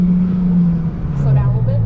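A 2016 Ford Focus engine easing off as the driver lifts off the gas, a steady low hum whose pitch drops slightly as the car slows.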